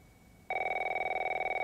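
A telephone in The Last of Us Remastered rings with a loud, steady electronic trill that starts abruptly after a quiet moment and continues without voices.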